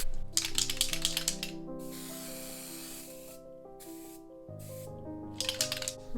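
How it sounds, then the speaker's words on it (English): Gold Deco spray paint hisses onto a canvas in short bursts near the start and end, over continuous background music. "It's gone in with silver, so I'll try this gold. This is just a deco spray."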